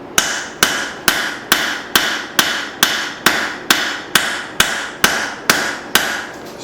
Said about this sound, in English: I've really just been going back and forth between the straight peen getting the profile in here and stretching out the top